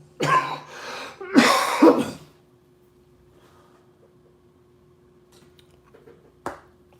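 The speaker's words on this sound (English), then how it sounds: "One more cough here." Two harsh coughs close to the listener, then quiet with a low steady hum, faint rustles and a final short sharp click.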